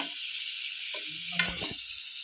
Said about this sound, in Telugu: అవైతే ఫ్రై అవుతున్నాయి